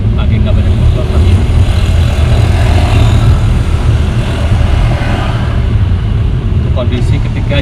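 Traffic passes by an open side window of a Suzuki Baleno 2022 hatchback, a loud continuous rumble of nearby engines and road noise with no clear distinct passes.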